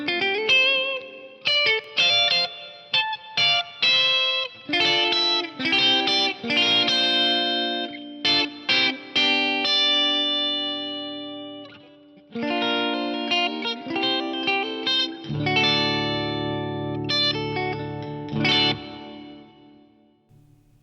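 A distorted, chorused instrumental phrase plays through a TC Electronic G-Force reverb unit set to a 3-second decay with about 70 ms pre-delay, with choppy stabs and a sustained washy tail near the end and no voices.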